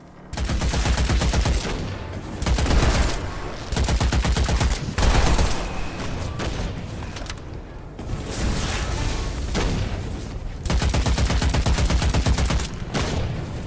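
Enemy gunfire in the video game Witchfire, loud rapid bursts of shots in long sustained volleys with brief pauses between them, close and dense, no talking.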